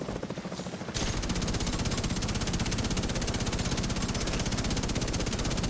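Rapid sustained automatic gunfire in The Division 2 video game, a dense machine-gun stream that kicks in after a brief quieter second and runs steadily and loudly to the end.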